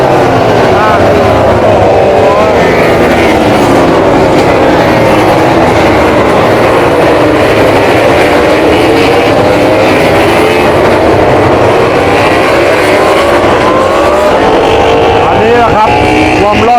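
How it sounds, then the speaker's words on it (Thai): MotoGP racing motorcycles roar past on the track at the Thailand circuit, a loud, continuous engine howl with rising and falling whines as the bikes pass close by. A commentator speaks over it. "อ่ะรถแข่งมาแล้วครับ มาแล้วนะครับตอนนี้นี่รถทุกคันครบ"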